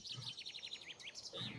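A bird-chirping sound effect, played during a Dungeons & Dragons tabletop session, gives a quick run of bright, repeated chirps and tweets, fairly quiet and heard alone.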